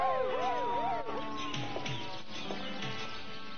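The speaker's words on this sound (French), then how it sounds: "C'est une ambulance." A wailing siren rises and falls repeatedly at moderate distance, heard over a steady background hum with some faint chirps.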